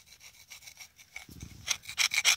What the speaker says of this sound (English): Quick rub down. And all that rust, what's a nice edge there, is just flaking straight off